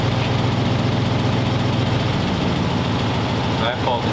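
A 1946 Ford engine idling, a loud, steady, close rumble that holds throughout with a brief dip near the end, with people talking over it.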